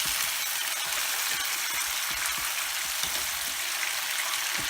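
Carp pieces frying in hot oil in a pan, a steady soft sizzle with scattered faint pops and crackles, close by and quiet, no voices.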